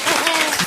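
A French television studio audience applauds a comedian's arrival, a brief loud wash of clapping with a voice speaking over it.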